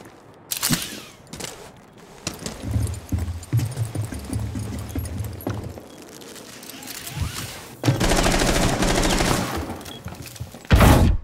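Heavy revolver shots in Rainbow Six Siege, Hereford Base bomb mode, crack out loud and close in a few sharp bursts, with the game's rumbling ambience and effects between them.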